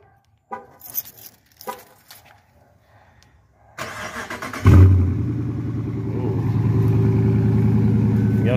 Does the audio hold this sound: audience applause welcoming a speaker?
no